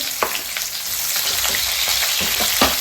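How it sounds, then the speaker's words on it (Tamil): Onion added to hot oil with cinnamon, star anise and fennel seeds for a South Indian chicken sukka, giving a steady close sizzle and crackle with occasional stirring clicks, no talking. "வெங்காயம் போட்டுக்கலாம்."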